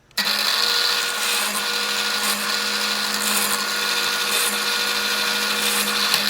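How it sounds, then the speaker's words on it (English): A drill press drilling holes in wood whirs at a steady high pitch, running continuously without pause, loud and close. "you can drill just about as fast as you can line up and pull the lever"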